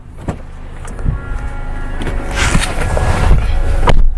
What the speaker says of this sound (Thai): อ่ะนี่ครับเดี๋ยวผมพาลองขับนะครับ จะพาลองขับเลยนะครับ